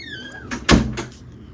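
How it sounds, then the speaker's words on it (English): A door swung shut indoors, a single solid thud with a short creak before it, near and fairly loud, followed by a faint softer knock. "Okay, shut the door, Tink."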